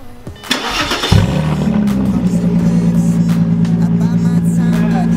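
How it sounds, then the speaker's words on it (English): A cold start of an Audi A4 with a straight-pipe exhaust: a starter crank, then the engine catches with a loud burst and settles into a steady, rumbling idle close by, with no talk over it. "Cold start."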